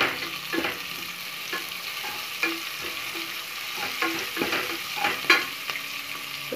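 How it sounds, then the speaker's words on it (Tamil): Chopped onions and curry leaves fry and sizzle in a pan, with a steady crackling hiss broken by repeated scraping stir strokes, close and fairly loud, with no talking. "கருவேப்பிலை, வெங்காயம் ஃப்ரை ஆகிறதுக்கு சால்ட் போட்டுடலாம்."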